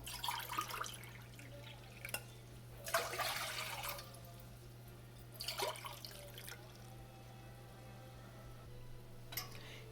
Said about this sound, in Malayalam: ഈ കപ്പിൽ ഞാനൊരു 6 ഗ്ലാസ് വെള്ളം ഇപ്പോൾ ഇതിനകത്തോട്ട് ആഡ് ചെയ്ത് കൊടുത്തിട്ടുണ്ട്